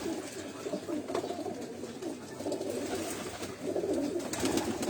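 Breeder pigeons in a loft at a keeper's dera in Pindi coo steadily and softly, a dense layered murmur of many birds close by, with no talk.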